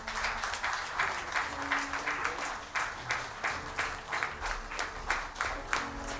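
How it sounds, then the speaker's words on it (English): A conference audience applauds during an inaugural session, with a moderate wash of many hands clapping at an even pace, slightly distant and steady throughout. "A round of applause, please."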